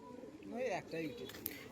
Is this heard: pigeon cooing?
yes